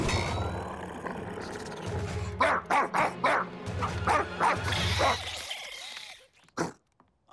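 A small dog barks in a rapid string of sharp yaps that rise and fall over a low rumbling background, then trail off into a couple of isolated yips near the end.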